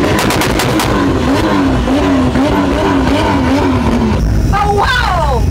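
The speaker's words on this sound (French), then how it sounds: "Vous entendez la voiture comment il tremble?" At the Liwa festival, a car's engine revs loudly and close, its pitch rising and falling in wavering sweeps, with a sharp squealing burst near the end and voices faintly underneath.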